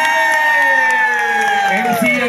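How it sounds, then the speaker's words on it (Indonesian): A crowd at a graduation opening ceremony cheers and shouts loudly and steadily, with a voice held over the din and faint clapping under it. "Coba sekali lagi minta mohon hadirin semuanya berikan tepuk tangan buat Bang"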